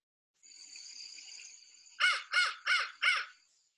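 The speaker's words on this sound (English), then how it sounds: "This is the American crow. It's a very typical crow call." An American crow gives four loud, evenly spaced caws close by, following a steadier, thinner bird call heard before them.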